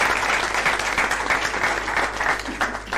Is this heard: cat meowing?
no